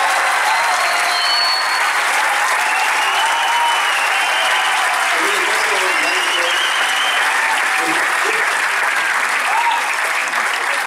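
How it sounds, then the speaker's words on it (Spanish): Loud, sustained applause from a concert crowd at a tribute show in Curicó, welcoming the singer; dense clapping runs steadily throughout with some crowd noise and voices mixed in. "Fuerte el aplauso, por favor"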